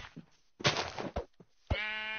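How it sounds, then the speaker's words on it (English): Sheep bleats from the Minecraft video game, a couple of short, close, clear game-audio calls with brief gaps between them. "sheep"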